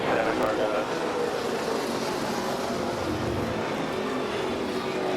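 Roaring engines of NASCAR stock cars racing in a pack at Talladega during a multi-car crash, a loud dense continuous drone with crowd-like wash throughout and a brief louder burst at the start.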